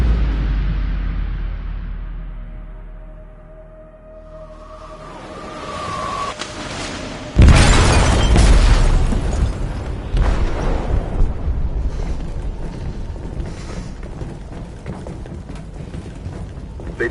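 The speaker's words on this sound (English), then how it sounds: "They detonated an explosive in the hold." An explosive detonates in a ship's hold in the game Detroit: Become Human: a sudden, heavy, booming blast follows a low rumbling build-up, then a sustained roar and rattling debris churn on loudly.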